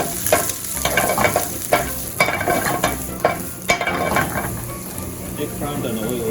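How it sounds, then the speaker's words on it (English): Eggplant pieces fry in hot oil in a pan for a Japanese beef tenderloin and spicy miso dish, giving a steady close sizzle with recurring stirring scrapes and clatter. "cook first for the eggplants"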